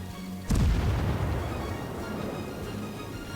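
The Japanese tier 7 cruiser Mogami fires its guns in World of Warships, a single heavy boom followed by a long rolling rumble that slowly fades.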